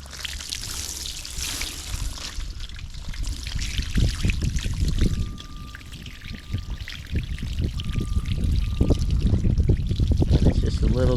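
Water pours and trickles over a duck carcass being skinned and cleaned, splashing unevenly with handling noises and talk mixed in.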